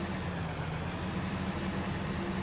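A tractor engine idles in a farming video game, giving a steady, quiet low rumble with a faint, even hum throughout. Nothing else is heard.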